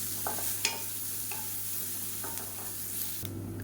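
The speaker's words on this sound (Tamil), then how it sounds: "இப்போ பாருங்கள் பூண்டு நல்லா வறுபட்டுருச்சு" Garlic cloves frying in a pan for a Tamil home recipe, a steady low sizzle with a few scraping stirs of a spoon against the pan, quiet and close, with no voice over it.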